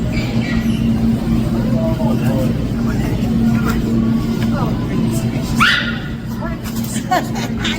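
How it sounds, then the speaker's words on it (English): A friend's dog barking in the produce section of a Walmart grocery store, a few short yips over steady store hum and traffic-like rumble, with people talking nearby. "that's my friend's dog."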